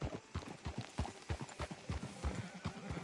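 Horse hooves clip-clop in a steady, fairly close rhythm in a Western video game town, each hoofbeat a crisp, evenly spaced knock, with a faint snort or whinny possible and no talk.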